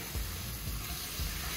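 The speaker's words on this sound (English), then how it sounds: "shrimp does not take very long to cook" Seasoned shrimp sizzling as it fries in a pan, a steady crackling hiss with a few soft stirring or shifting sounds, fairly close and with no one speaking.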